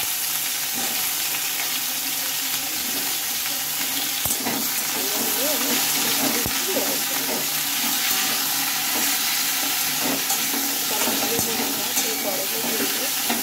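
Potatoes and papaya frying in a pan, a steady broadband sizzle running throughout with occasional sharp clicks of stirring and faint background voices.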